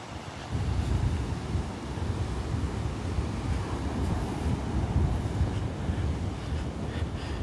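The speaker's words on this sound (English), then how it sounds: "Let you enjoy the sounds of Mother Nature, the wind blowing, the waves crashing on the beach." Steady wind and surf washing onto a Gulf beach at Delnor-Wiggins State Park in North Naples, Florida, a continuous broad roar with gusty wind buffeting the microphone throughout, no voices.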